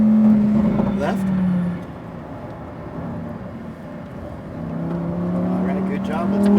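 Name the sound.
Lamborghini sports car accelerating on racetrack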